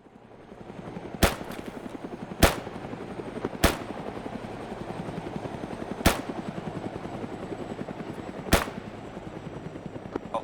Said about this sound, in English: who's decided to bring a helicopter to loiter over the area